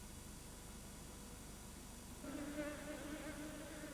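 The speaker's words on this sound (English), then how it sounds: "Bees swarm when a queen and her colony are on the move." A swarm of bees hums as a queen and her colony move, a faint, steady buzzing that grows somewhat stronger partway through against soft outdoor background noise.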